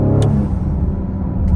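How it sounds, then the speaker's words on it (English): A Ford Explorer ST with a DIY, fully open blow-off valve runs under boost: loud, close engine rumble, with short sharp hissing bursts of venting air near the start and end. No one speaks. "it's like a ridiculous blow-off valve because it's just completely open right there"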